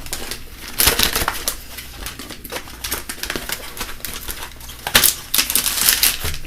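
Cardboard and plastic packaging of an EVGA GTX 560 Superclocked graphics card being opened and pulled from its box, with close crinkling, crushing and scraping, and several louder rustling bursts through the stretch.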